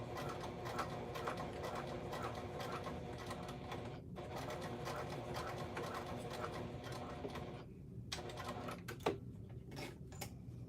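Sewing machine stitching a custom Pocket Pal, a steady mechanical whir with rapid needle clatter running almost continuously, pausing briefly near the middle and again toward the end, close and alone.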